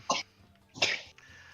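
Two short sharp bursts of a person sneezing at a tabletop role-playing session, each a brief explosive burst with quiet gaps between.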